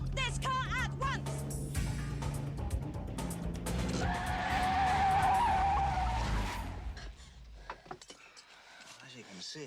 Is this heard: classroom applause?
no